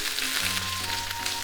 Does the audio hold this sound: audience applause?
no